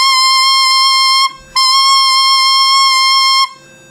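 An alto saxophone mouthpiece, blown on its own without tonguing, holds a piercing, steady squeal on concert C, sounded twice with a short breathy gap between the long tones.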